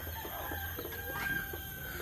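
Chickens clucking and calling in a coop fitted with a plastic curtain, a busy continuous flock chatter with short overlapping clucks and squawks close by, no talk.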